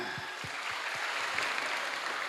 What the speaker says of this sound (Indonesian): Guru agama, tepuk tangan.